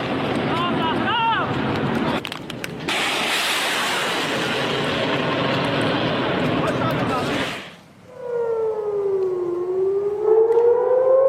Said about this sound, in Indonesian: sirene berbunyi saat rudal dicegat sistem pertahanan Israel pada Selasa dini hari waktu setempat